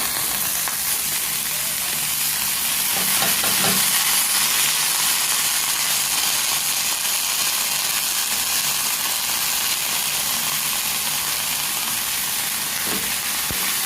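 Chopped cauliflower sautéing in a pan over lowered gas, a constant dense sizzle and hiss with a few stirring scrapes early on, faint talk now and then beneath it.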